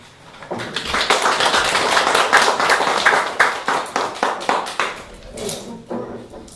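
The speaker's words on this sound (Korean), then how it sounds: "역시 우리 박수로서 맞이하도록" Audience applause welcoming a speaker at a humanities and arts seminar on children's literature, close and lively clapping that builds, holds, then breaks into a few separate claps before fading, with brief talk near the end.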